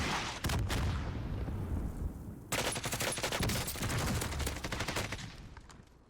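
Dense, loud gunfire in a Call of Duty Warzone solo match, long sustained automatic bursts with a short gap between them, rattling and booming close by with no talk over it.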